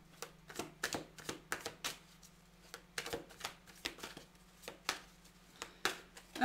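Tarot cards riffled and cut in a run of crisp, sharp bursts at an uneven rhythm, close and fairly quiet over a steady low hum, with no voices.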